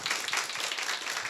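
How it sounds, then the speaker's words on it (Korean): An audience at a lecture applauds to welcome a speaker, a brief, steady patter of many hands clapping at moderate volume. "박수로 환영해 주세요"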